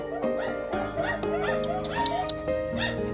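A dog on a farm yips and whimpers repeatedly at close range in a series of short, high, tonal barks.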